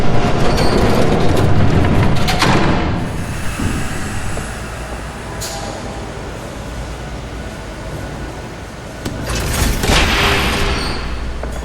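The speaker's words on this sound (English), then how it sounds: "There's a train coming." Train passing in Batman The Telltale Series, a loud broadband rumble with rail clatter that swells early, eases through the middle and surges again near the end, with no talk over it.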